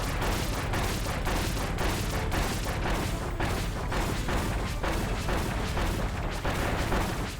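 Bomb explosions in the video game Kirby Star Allies boom in a dense, rapid barrage, loud and continuous, with one blast following another.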